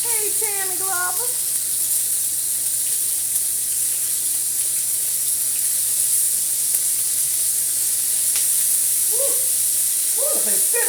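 Thin-cut beef steak sizzles steadily in a hot stir-fry pan, a loud, constant hiss with no breaks, while voices briefly talk over it at the start and again near the end.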